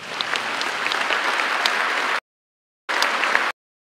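Legislators applaud at the Philippine State of the Nation Address for President Ferdinand R. Marcos Jr., steady loud clapping from a large hall that cuts off abruptly, then returns briefly for a short second burst.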